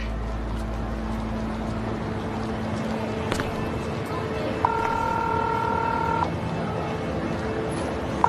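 Telephone keypad tones sound as a call is dialed, a few sustained beeps over a steady low background hum, fairly clear but not loud.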